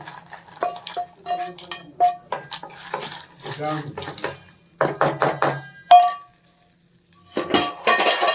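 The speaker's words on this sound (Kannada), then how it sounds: "ನೋಡಿ, ಈಗ ಒಂದು ಬೌಲ್ಗೆ ಹಾಕ್ಕೊಳ್ತಾ ಇದ್ದೀನಿ ನಾನು." Fried peanuts tipped into a bowl in the kitchen: bursts of rattling, clinking nuts and a spoon scraping against the dish, close by, in several separate spurts with short pauses, with some talking in between.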